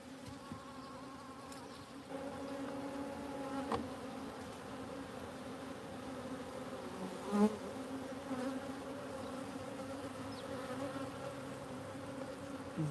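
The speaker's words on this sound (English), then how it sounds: "These bees are going crazy." Swarm of agitated honeybees buzzing during a honey harvest, a dense steady drone close by with individual bees zipping past, continuous and fairly loud.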